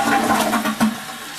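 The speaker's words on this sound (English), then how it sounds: "Flush the toilet." A toilet fitted with a Flush and Sparkle bowl cleaner flushes close by, a short burst of rushing, gurgling water with a quick surge near the end.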